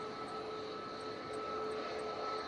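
Jet engines of an Emirates A380 in a flight simulator drone steadily during a landing approach, a smooth continuous roar with a faint tonal whine, moderately quiet and unbroken throughout.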